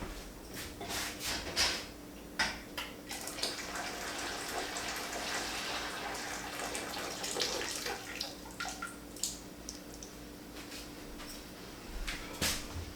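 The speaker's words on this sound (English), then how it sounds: "now we're gonna put these straight into our water canner and get these going" Glass canning jars set down into a water-bath canner while making lemon juice, lemon curd and candied jalapenos, giving a steady wash of splashing, bubbling water with sharp clinks and knocks of glass against the pot throughout, close and fairly loud.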